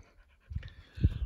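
A tired puppy panting on a trail near a canyon entrance, quick rhythmic breathy huffs, close and soft, heard alone.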